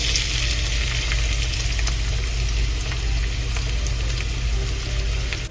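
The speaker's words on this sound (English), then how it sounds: "So into the hot oil goes the finely chopped onions." Finely chopped onions fry in hot oil in a pan for tuna cutlets, a loud, continuous close sizzle and crackle with no breaks.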